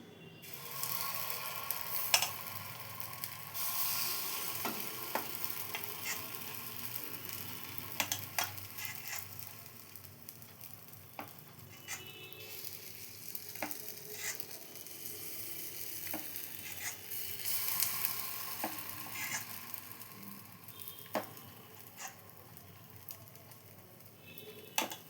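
Appam batter sizzles steadily in a hot pan, a continuous crackling fry with faint scraping and clinking of utensils throughout, and no voices.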